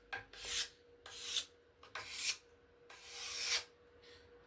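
Hand rasp shaving small curls off the wooden limb of a laminate longbow, five long rasping strokes in a steady rhythm, close and fairly loud with brief pauses between them.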